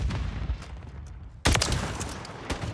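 XRK gun firing in a Call of Duty game: scattered shots at first, then a loud sudden burst of rapid automatic fire with several sharp cracks following, close and without talk.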